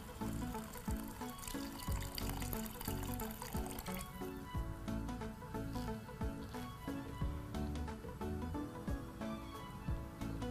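A cup of water poured into simmering chole gravy for Amritsari chole, a soft, continuous liquid trickle beneath steady background music.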